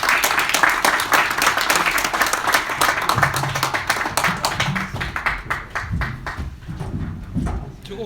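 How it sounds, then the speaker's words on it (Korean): A crowd applauds steadily, dense clapping that continues loudly and gradually thins out toward the end. "우리 5분에게 큰 박수를 좀 보내주십니다"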